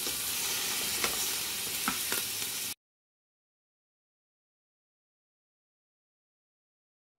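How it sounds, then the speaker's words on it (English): Baby back ribs fry in a pot with a little oil, giving a steady, fairly loud sizzle with a few spatula scrapes for under three seconds before it cuts to silence. "Now we're gonna put them in a pot to fry with 1 little bit of oil"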